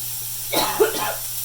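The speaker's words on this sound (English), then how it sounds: "I have a bad cough." A person with a bad cough coughs once up close in a kitchen, a short harsh burst with a raspy, breathy tail over a steady low hum.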